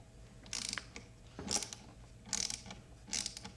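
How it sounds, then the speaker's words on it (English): Ratcheting clicks from a T10 Torx screwdriver backing screws out of an Xbox 360 racing wheel, four short bright bursts spaced about a second apart, close and fairly quiet with no talking. "we're going to turn the wheel and take out these two screws"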